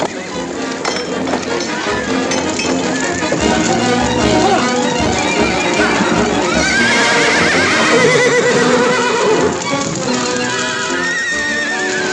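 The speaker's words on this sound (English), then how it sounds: "Speedy, take care of my horse while I get these out of here" A horse neighs loudly over a dense, busy mix of music and hoofbeats in the 1940 western film The Showdown, with a clinking sound in the background.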